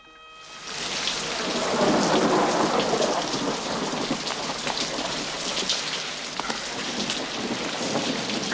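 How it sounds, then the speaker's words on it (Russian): Heavy thunderstorm with steady, dense rain hiss that swells in after a moment, with a broad rumbling undertone running throughout and no voices. "Гроза."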